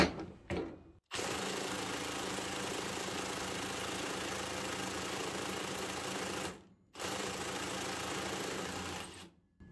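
A Parkside Performance PASSP 20 Li A2 cordless impact wrench hammers loose bolts torqued to 550 Nm on its 400 Nm setting, giving two long, loud, continuous rattling bursts up close, separated by a brief pause, after a short initial blip.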